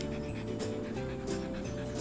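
A shelter dog waiting for adoption pants steadily and close to the microphone, with quick rhythmic breaths repeating throughout over a low background hum.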